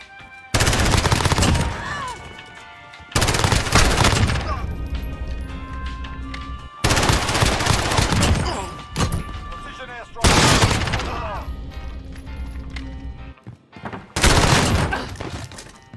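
MP5 submachine gun fire in the video game Modern Warfare, five loud bursts of rapid automatic shots separated by short pauses, each burst sharp and close, with game ambience between.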